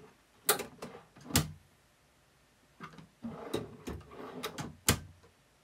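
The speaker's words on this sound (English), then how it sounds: "and close the drawer." A drawer on a DeWalt ToughSystem DS290 22-inch tool organizer slides and shuts, giving sharp plastic clacks and rattling clicks in several separate bursts with quiet gaps between.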